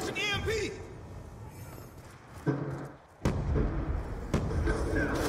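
Gunfire and heavy booms from an online Call of Duty: Black Ops 2 match played on PS3, with loud bursts and thumps. One sharp blast stands out near the middle, and a voice talks over the game throughout.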